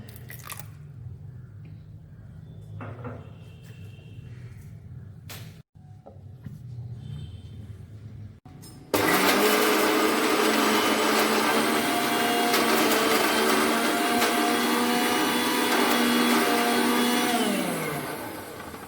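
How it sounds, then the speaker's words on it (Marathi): An electric mixer grinder blends cooked ridge gourd chutney with a little water, starting abruptly after a quiet stretch and running loud and steady with a high whine and rough churning before winding down at the end. "थोडेशे उदक घालून हाची गंध चटणी वाटून घेवका"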